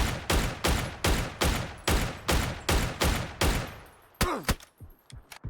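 Gunfire in a competitive shooter match: a rapid, regular series of about ten loud, close shots, followed by a few scattered, sharper bursts and clicks, with no voices.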